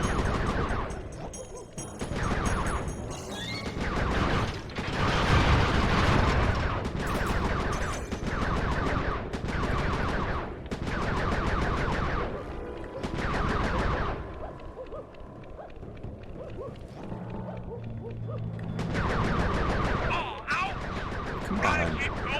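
Dense, sustained gunfire in the video game Sly Cooper 3, loud overlapping shots and blasts rolling continuously with game effects and a voice talking over parts of it.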